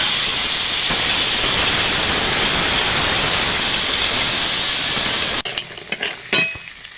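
Crab pieces coated in turmeric and salt fry loudly in hot oil in a wok, a dense, constant sizzle that suddenly drops away near the end, leaving a few soft clatters.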